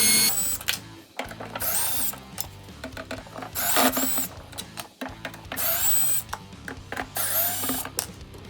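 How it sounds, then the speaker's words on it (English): A power drill with a star bit whirs in short bursts, stopping and starting as it backs out screws holding a car speaker, close and fairly loud, with no speech. "you will take a drill and a star bit and remove each one of the screws"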